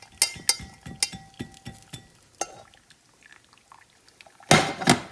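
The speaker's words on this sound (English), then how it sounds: "We're just gonna strain it off." Shrimp stock poured and strained through a sieve: splashy liquid pours and drips in quick bursts with light clinks, then a louder final pour at the end, close up with no talking.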